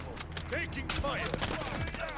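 Rapid bursts of automatic gunfire crackle through a Call of Duty: Modern Warfare multiplayer match, dense and continuous with sharp transients throughout, while game voice callouts and other effects sound underneath.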